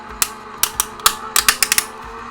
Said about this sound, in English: Put this over. In the die cutting machine.